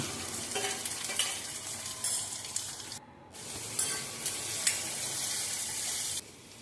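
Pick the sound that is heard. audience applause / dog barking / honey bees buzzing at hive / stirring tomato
stirring tomato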